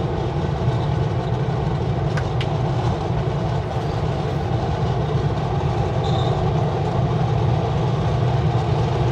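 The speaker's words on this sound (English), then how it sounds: "Train is moving. Empty coal train." An empty coal freight train rolls by close and loud near Mara Lake, Sicamous, wheels clattering on the rails under a steady low rumble, with a brief metallic squeal now and then.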